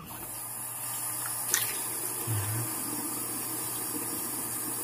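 Steady running water rinses off after a razor shave, a continuous hiss with a brief splash and a low gurgle partway through.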